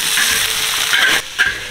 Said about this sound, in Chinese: 蒜头、小米辣进锅炒香，莲雾果进锅，葱段进锅